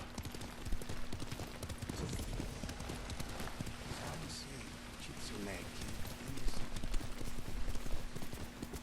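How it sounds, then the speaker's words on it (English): Horse hooves clip-clop steadily while riding in the Ghost of Tsushima video game, a continuous quick rhythmic clatter that grows a little louder toward the end, with speech and game sounds over it. "Come along, horse."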